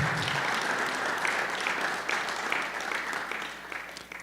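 A church congregation applauds steadily and loudly for several seconds, a dense, continuous wash of clapping with no speech over it.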